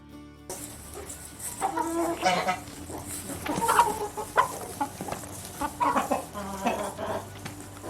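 Chickens clucking close by as they peck at suet treats, with frequent soft clucks and murmurs rising and falling over several seconds, with no talk.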